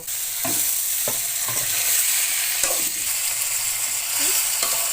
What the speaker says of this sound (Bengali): মশলাটা সুন্দর ভাজা ভাজা করে কষানো হয়ে গেছে এখন আমি পরিষ্কার করে ধুয়ে রাখা মাছগুলো দিয়ে দিব